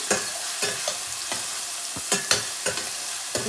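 Sliced onions for a ridge gourd and chana dal curry fry in oil in a pan, with soft steady sizzling broken by repeated sharp scraping strokes of a spatula, close by.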